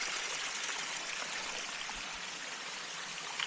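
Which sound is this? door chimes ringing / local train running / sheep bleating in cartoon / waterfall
waterfall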